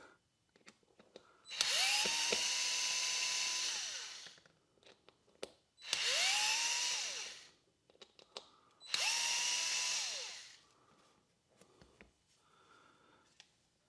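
A DeWalt 66719 electric screwdriver backs out screws held tight with Loctite. It gives three long whirring bursts, each rising and then winding down, with pauses and small handling clicks between them. Light breathing can be heard in the gaps.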